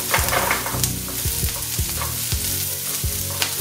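Onions frying and sizzling in a pan as they caramelize for meatball subs, a steady loud sizzle broken by repeated scraping stirs of the pan.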